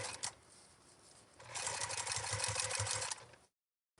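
A sewing machine stitches a Tula Pink A Place for Everything 2.0 bag, running in a steady whirring burst of about two seconds after some quieter fabric handling, then stopping abruptly.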